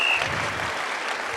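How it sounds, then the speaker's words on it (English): Audience applause fills a hall, steady clapping heard at moderate level for a brief stretch. "How about a round of applause for Tucker Carlson for being here and doing this"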